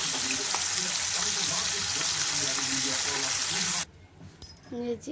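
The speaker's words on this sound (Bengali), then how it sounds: "এদিকে আমি মাছটা আগে ভেজে নিচ্ছি ভালো করে" Fish frying in hot oil for a home-cooked curry, a dense steady sizzle filling the first four seconds under faint background voices, then cutting off abruptly to a quiet kitchen with a few soft clinks.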